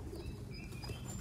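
Racing pigeons in a loft, low soft cooing that murmurs continuously at close range, with faint chirps above it.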